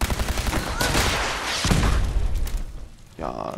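Rapid bursts of gunfire crackle and boom in a Fallout 4 video game battle, loud and dense at first, then thinning before a final blast, while someone talks over the shooting.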